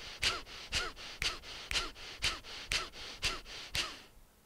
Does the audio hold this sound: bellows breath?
yes